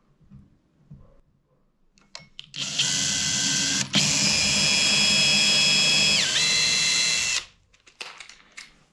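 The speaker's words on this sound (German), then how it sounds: "Dann nochmal vorbohren." A power drill pre-drilling a pilot hole while building a wooden bed, a loud high whine running for about five seconds, briefly dipping in pitch before stopping, with quiet handling sounds before and after.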